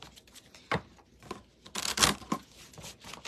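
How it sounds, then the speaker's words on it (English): Oracle cards are shuffled by hand in a few quick papery bursts, soft riffling and flicking strokes close up, ending with a louder cluster of snaps, with no talking. "I'm going to shuffle one more time."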